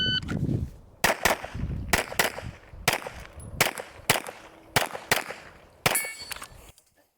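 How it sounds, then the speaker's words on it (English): Rapid series of sharp gunshots, about eight or nine, each followed by a ringing metallic clang from a piece of steel target downrange, crisp and loud with short gaps between them, no talking. "Had to have a makeup shot on the piece of steel that I have out there"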